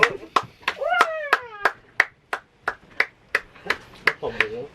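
Players clap their hands in a steady series of sharp, close claps, about a dozen at roughly even spacing, while a voice talks and rises in tone over part of the run.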